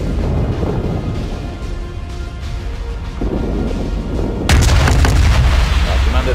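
Warship main guns in World of Warships let off a deep, loud boom that swells into a rumbling blast near the end, over a constant low roar of sea and engine.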